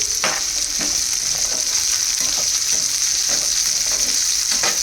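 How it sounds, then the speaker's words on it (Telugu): Millet ponganalu batter frying lightly in a pan, giving a steady close sizzle with soft stirring scrapes throughout and no voices. "సో ఇది కొంచెం ఫ్రై అవ్వాలి, ఎక్కువసేపు అవ్వకూడదు, లైట్గా ఫ్రై అవ్వాలి"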